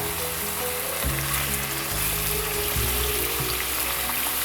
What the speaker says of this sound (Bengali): এখন একটু নেড়ে দিতে হবে এপিট এপিট ওপিট করে একটু নেড়ে দিতে হবে